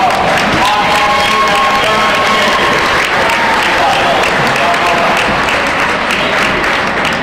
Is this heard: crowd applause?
yes